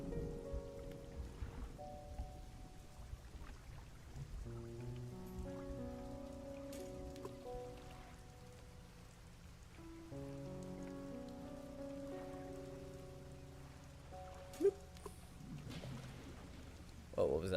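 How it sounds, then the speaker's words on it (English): Steady thunderstorm rain patters continuously in the survival video game The Long Dark, a soft even hiss beneath sustained tonal, drone-like sounds. "I hear thunderstorms."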